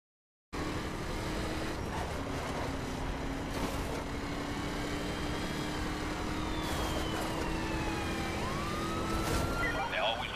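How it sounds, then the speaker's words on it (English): A police helicopter in a video game hovers with a sustained rotor drone while siren-like tones rise and fall over it, all steady throughout. "They always try to run from the chopper."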